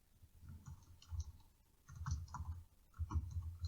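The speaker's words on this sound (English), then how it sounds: "They all hear you typing" Soft typing on a computer keyboard, with irregular bursts of clicking keystrokes separated by short pauses, fairly faint and close.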